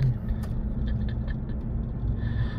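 Road traffic with many vehicles on a hot, crowded street, heard as a low, continuous rumble of engines at moderate distance, with faint scattered higher noises above it and no clear talk.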